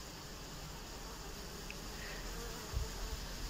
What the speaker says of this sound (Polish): Proszę posłuchać, jak pięknie śpiewają pszczoły.